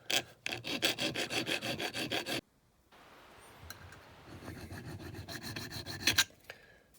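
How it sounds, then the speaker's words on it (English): A file scrapes rapidly and rhythmically at the tow hook of a Lesney Ford Thunderbird die-cast model. Steady bursts of close rasping stop briefly, then resume more softly and in a more scattered way. "That's the last of the filing."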